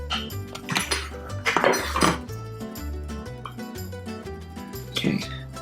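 A slice of gluten-free Chicago-style deep dish pizza being cut and served, with close metallic clinks and scrapes of a utensil against a pan and plate, sounding in irregular bursts over steady background music.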